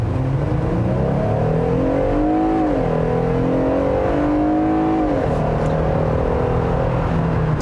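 A Jeep Gladiator Mojave with the 3.6-liter Pentastar V6 drives along, the engine droning steadily inside the cabin as its pitch climbs, dips at a gear change, then climbs again.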